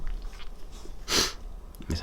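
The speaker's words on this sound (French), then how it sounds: "j'en renifle" A single quick, close sniff through the nose, with faint breathing and soft background noise around it.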